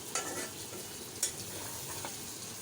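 Soft, steady sizzling of small fish frying in a pan, with a couple of faint clinks from stirring.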